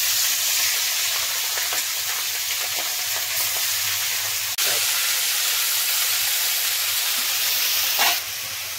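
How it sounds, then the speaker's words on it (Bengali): Fresh fish rubbed with salt and turmeric fries in hot oil, a loud, continuous hiss and crackle close up, with a couple of sharp knocks and brief scrapes. "মাছটা আমি ভেজে নেব।"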